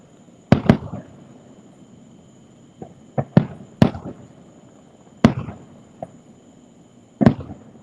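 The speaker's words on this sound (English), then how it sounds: "It's amazing how loud they are inside of our house, though, when the windows are closed." Several sharp, booming Walt Disney World fireworks bursts, muffled as heard from inside a house with windows closed, arriving irregularly with short crackling tails and quiet gaps between them.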